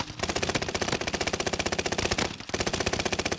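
Rapid automatic fire from a gun in the Warzone shooter game rattles in loud, steady bursts, with one brief pause before the stream resumes, close and dominant with no talking.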